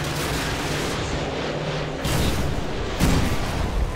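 Artillery fire in Call of Duty: Modern Warfare 2, heard as a dense, rumbling battle roar with two heavier booming impacts in the second half, loud and continuous with no voices.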